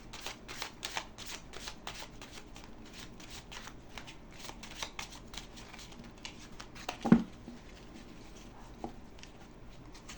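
Tarot cards shuffled by hand in a quick run of crisp, close riffling flicks, then one sharp slap as the deck settles, followed by quieter shuffling and handling.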